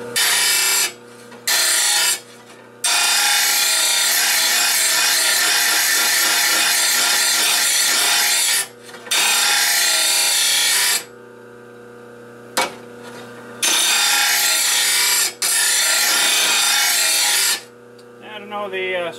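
A mower blade being sharpened on a grinding stone, with long loud sustained grinding passes broken by short pauses, the stone sounding more like polishing than cutting.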